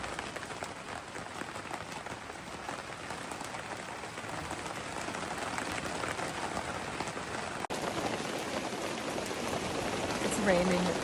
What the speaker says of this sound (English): It's raining so hard right now